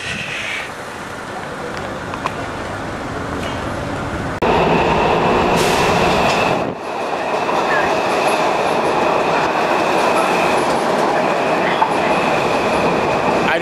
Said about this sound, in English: it's called the Metro. It's like BART, Bay Area Rapid Transit System at home. But it serves the Washington area.